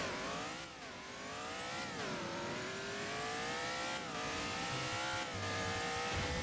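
NASCAR-style race car engine in the Driving Empire video game, revving hard through repeated rising pitch sweeps as it accelerates and shifts up through gears, loud and close with faint tire squeal.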